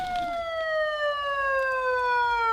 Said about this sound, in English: This warning siren means a cyclone is approaching and residents must leave.